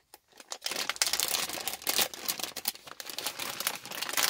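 A resealable plastic bag holding a stove-top scraper blade is pulled open by hand with a close, continuous crinkling and crackling of plastic, growing busier and louder after the first moment.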